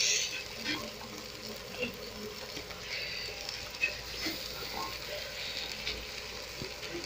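Tomatoes fry with spices in a pan, producing a moderate continuous sizzle with small crackles and occasional stirring clinks, fairly close and steady.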